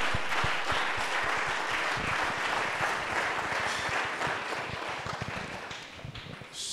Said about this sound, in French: acclame la parole de Dieu.